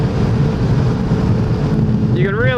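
Mazda MX-5 at full throttle on the Phillip Island race track, a steady droning engine note heard from inside the car, with a rising tone sweeping up near the end.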